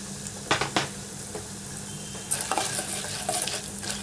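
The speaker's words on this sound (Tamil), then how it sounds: "துவரம் பருப்பும் இதில் போட்டுக்கலாம்." Urad dal and toor dal frying in hot oil for an onion tamarind gravy: a steady close-up sizzle with a few sharp spoon scrapes and clinks against the pan, denser crackling toward the end.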